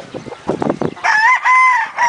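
Fighting cocks at close range: a quick series of throaty clucks gives way to a loud, drawn-out rooster crow that fills the second half.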